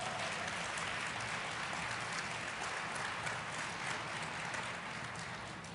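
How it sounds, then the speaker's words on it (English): Sustained applause from a conference audience at a public health session at the APHA 2023 meeting, dense steady clapping filling the room throughout and tapering slightly at the end. "Give this panel another round of applause."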